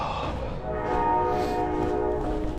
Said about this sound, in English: there's a fucking train coming